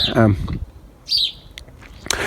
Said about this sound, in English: Listen to that noisy sparrow up there.